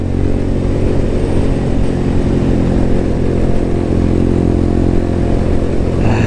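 A moped engine runs steadily and loudly throughout while being ridden in pursuit of another rider, its buzzing drone and gear-like harmonics constant with no clear speech.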